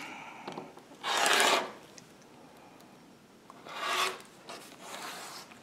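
A rotary cutter or blade slices fabric into 1.5-inch quilting strips, giving two or three short rasping strokes close by, one sustained and louder than the rest, with quiet pauses between and no talking.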